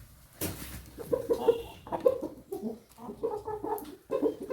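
A hen clucks repeatedly in short, irregular bursts close by at a rural home, with a brief noise at the start and no clear speech.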